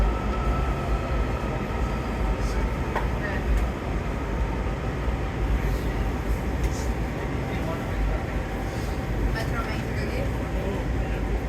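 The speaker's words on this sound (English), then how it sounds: "This is your red line train to Shady Grove" DC Metro Red Line subway train heading toward Shady Grove, a steady loud rolling rumble and roar inside the car with occasional squeaks, a voice faintly under the noise.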